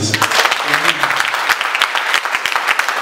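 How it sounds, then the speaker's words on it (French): A church congregation bursts into applause and cheering, a dense burst of clapping with voices mixed in, loud and close over three seconds. "Acclame Jésus"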